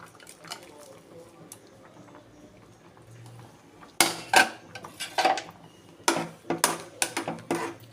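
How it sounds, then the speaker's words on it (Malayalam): Cumin and garlic go into a boiling pot of vegetable oats, with sharp clinks and scrapes of a utensil against the pot that come in bursts after a quiet bubbling stretch. "നമ്മുടെ ജീരകവും വെളുത്തുള്ളിയൊക്കെ ഇതിനകത്തേക്ക് ഇടാവേ"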